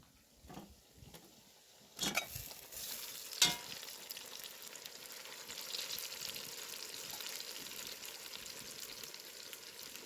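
Steady sizzling of onion and chicken frying in a kazan for kazan kebab, with a couple of sharp stirring clatters near the start, no talking.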